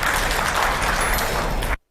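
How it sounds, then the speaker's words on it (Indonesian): A short burst of applause from a training-session audience, many hands clapping steadily and loudly for under two seconds before cutting off abruptly into silence. "Tepuk tangan buat kakak sekalian."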